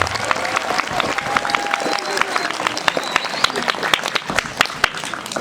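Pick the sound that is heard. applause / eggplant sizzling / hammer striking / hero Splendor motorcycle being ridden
applause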